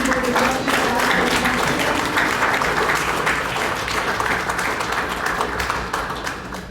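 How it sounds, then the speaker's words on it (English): A high school debate audience at a national law competition in the Federated States of Micronesia gives both teams a long, full round of applause, dense and steady throughout before it tapers slightly at the end. "give both sides a big round of applause"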